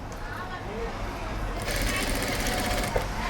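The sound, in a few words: sewing machine stitching thread piping on fabric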